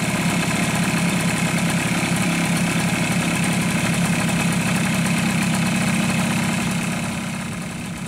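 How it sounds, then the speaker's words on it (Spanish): A Suzuki AX100 motorcycle engine idles steadily and loudly up close with a fast even putter while its air screw is adjusted, the revs easing slightly toward the end. "hasta escuchar que la marcha del motor comienza lentamente a bajar un poco las revoluciones"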